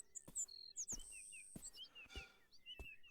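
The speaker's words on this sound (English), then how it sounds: "Oh, this is the sound of a bird." Bird chirping in the video game Beyond Eyes, a series of short bright tweets and trills with soft clicks, faint and sparse with no talking.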